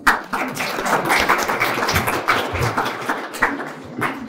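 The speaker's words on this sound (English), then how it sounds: "Any NDSUs want to give him a round of applause?" Audience applause for the NDSU student body president at a professional lunch panel: dense, steady clapping from a room of people, sustained at even loudness for several seconds.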